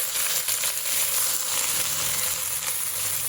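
Potato leaves and greens frying with onion, garlic and green chili in a pan, a steady loud sizzle with faint stirring scrapes.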